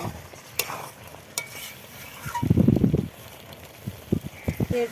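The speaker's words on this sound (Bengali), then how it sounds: "মাংসটা দিয়ে দেখো আমি কতটুকু তেলে রান্না করছি" Meat frying in oil in a pan, a close sizzle swelling briefly loud in the middle with stirring scrapes and clicks around it, with faint talk in the background.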